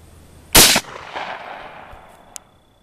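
Single loud, close gunshot from a 1905-made rifle: a sharp crack followed by a decaying echo tail, then a faint metallic click.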